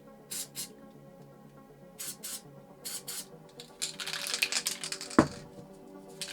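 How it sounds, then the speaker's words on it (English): Molotow Coversall water-based acrylic spray paint hisses from a can into a cone, a few short bursts at first, then a longer, louder continuous spray with a sharp click near the end, fairly close and with no talking. "We're just going to spray the paint straight into the cone."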